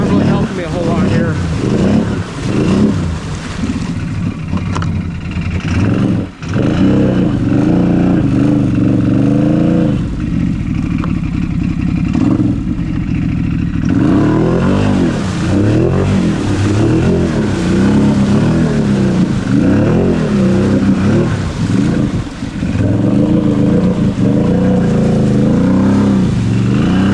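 A Can-Am Outlander 850 XMR ATV revs hard and continuously as its tires spin and dig into mud, the engine loud and close with rising and falling pitch, and a voice talks over it throughout.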